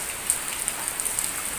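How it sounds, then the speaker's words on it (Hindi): Heavy rain falls in a thick, constant wash of noise, with individual drops ticking and splashing close by on a hard surface, brief and unbroken by any voices. "ये देखिए कितनी मोटी बारिश हो रही है।"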